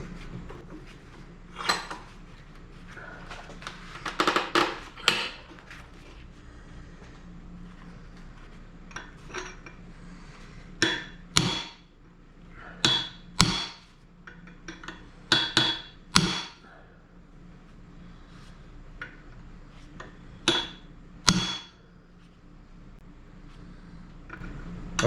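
Sharp metallic hammer strikes knock soft retaining rings off the axle of a '66 Mustang differential, landing in irregular clusters of bright clanks with short pauses between, close and clear, no voices.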